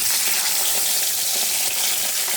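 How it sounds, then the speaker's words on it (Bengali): Fish frying in hot oil in a wok, a dense, steady sizzle and crackle that fills the whole stretch, loud and close with no voices. "মাছগুলোকে আমি ভেজে নেব।"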